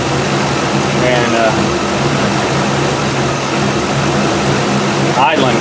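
A 5.3 V8 engine idles just after a throttle body replacement, a steady, loud, close rumble that holds throughout, with a brief word of speech over it.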